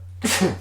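A single sneeze bursts out close by after a brief quiet moment, a sharp breathy blast with a short voiced tail, set against a steady low electrical hum.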